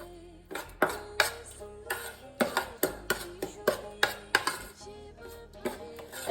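Semolina cake batter for basbousa being stirred with milk in a bowl, giving a run of close, sharp clinks and scrapes of utensil against the bowl in an uneven rhythm, with no voices.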